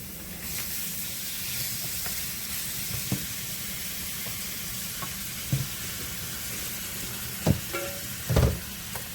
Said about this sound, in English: we'll let our onions fry a little bit. And now it's time to add our curry pork